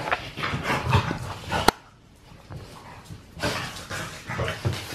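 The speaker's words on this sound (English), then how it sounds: "Sorry, the dogs are playing right now." Dogs play together indoors, giving soft growls, whimpers and yips in scattered bursts with a brief quiet lull, fairly close and moderately loud.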